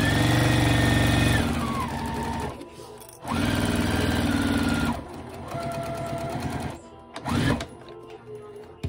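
A sewing machine back stitches a car trash bag, running in loud bursts of rapid whirring with short pauses between passes, slowing and restarting several times.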